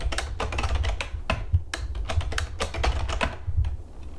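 Keys clatter in a quick, irregular run of close taps on a computer keyboard as a password is entered at a Linux command line, with brief pauses between bursts and no voices.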